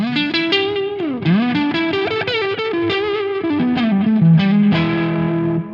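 Electric guitar played through an Xotic effects pedal with a mid-heavy overdriven tone, a continuous run of fluid lead lines and bends, loud and close with no talking.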